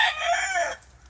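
A rooster crows once in a backyard where game birds are raised, a loud, close, drawn-out call that cuts off sharply near the end.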